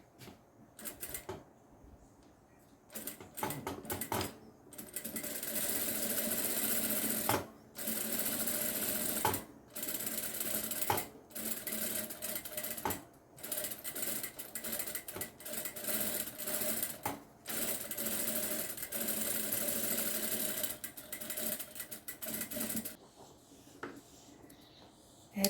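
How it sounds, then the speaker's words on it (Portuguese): A sewing machine runs a straight safety seam, its needle chattering in a fast steady rhythm close by. The run continues for long stretches, broken by a few brief pauses, with no talking. "eu vou passar uma costura de segurança aqui, na reta. Vou passar também um pezinho de máquina"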